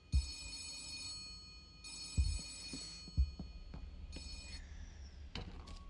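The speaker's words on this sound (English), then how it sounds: "Suddenly the phone on Star's desk starts to ring." A desk telephone in a video game rings in bursts of bright, tinny trills, a short pause between them, with a few soft thumps underneath and the last ring cut short.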